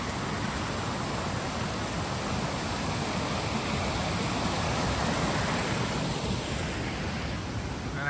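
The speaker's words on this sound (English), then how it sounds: "And so you get to see the top of the waterfall there." Janet's Foss, a waterfall feeding a stream, gives a steady, full roar of rushing water that holds unbroken and fairly loud throughout.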